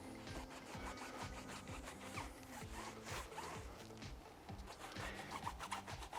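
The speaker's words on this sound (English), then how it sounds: "take my microfiber. You can use a microfiber applicator or a towel and just work it into the tire" A microfiber towel works tire dressing into a car tire, making close, steady rubbing strokes that repeat in a quick, even rhythm throughout with no talking.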